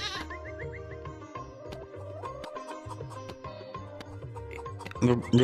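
Goat bleats in a Mina video game, a few short cartoonish cries over steady looping game music and sound effects, with louder game noises near the end.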